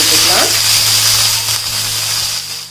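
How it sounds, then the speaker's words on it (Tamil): Three small shallots, finely chopped, sauté in hot oil after tempering spices in a home kitchen, giving a steady, close, loud sizzling hiss with a faint hum behind it. "இப்போ வந்து வெங்காயம் நல்லா வதங்கி வந்துருச்சுங்க."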